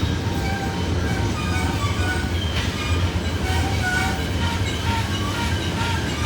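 A coal train hauled by six locomotives eases downhill on Horseshoe Curve, Pennsylvania, with a steady loud rumble of rolling hopper cars, diesel drone and faint wheel squeal.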